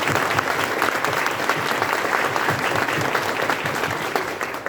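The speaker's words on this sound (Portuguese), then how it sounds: "pedir uma salva de palmas para as 84 pessoas do nosso SAMU municipal." Audience applause at a regional SAMU emergency medical service event, a dense, steady burst of clapping from a crowd lasting several seconds with no pauses.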